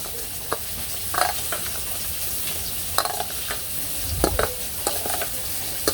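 Fish frying in oil in a Bangladeshi village kitchen, with a steady close sizzle and scattered sharp crackles and spatters; no one talks.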